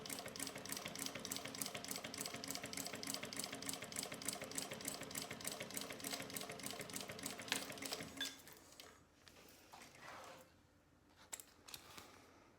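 Sewing machine stitching with a walking presser foot, a fast, even rhythmic run of needle strokes that stops after about eight seconds, leaving faint handling clicks and rustle, quiet and close.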